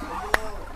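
A single short goose honk at a poultry farm by a river, close by and sharp, standing out briefly against a steady outdoor background.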